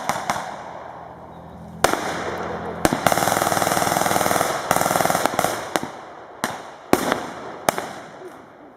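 An MG42 light machine gun fires during an outdoor battle reenactment in a park, loud rapid bursts and sharp single reports cracking out over several seconds with brief gaps between.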